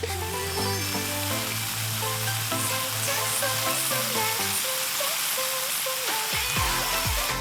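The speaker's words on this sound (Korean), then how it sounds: "이번엔 지글지글 소리가 나" Steady, crackling sizzle of rice frying in a hot pan, continuous throughout, with music playing over it.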